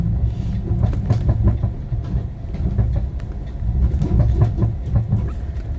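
An automated Heathrow Pod vehicle rolls along its guideway track at Terminal 5, giving a steady low rumble with repeated light clicks and rattles from the running gear, close and continuous throughout, no voices.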